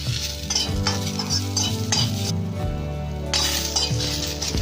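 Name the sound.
chillies frying on low flame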